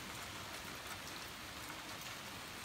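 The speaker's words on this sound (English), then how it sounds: "it started to rain out" Steady rain falls outdoors on a day that had been almost sunny, a constant broadband hiss of drops on surfaces with no voices and no pauses, fairly close and even throughout.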